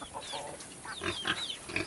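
Pigs on a Philippine farm grunt and squeal in short irregular bursts, with chicken-like clucks mixed in nearby, moderately loud and without talk.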